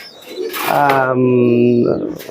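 A high-flying pigeon of a champion bloodline gives a close, soft cooing call, a single drawn-out throaty note with faint voices around it.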